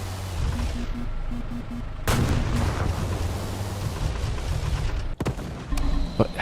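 Tank cannon fire in a multi-crew tank combat video game: a heavy broadband blast at about two seconds, then sustained rumble and engine drone, with a second sharp crack near five seconds.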